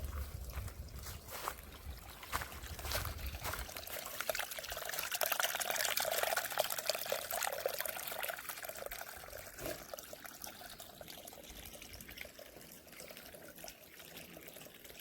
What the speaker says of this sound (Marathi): इथे पाणी आहे, पाईपलाईन टाकून असं आणलेलं आहे.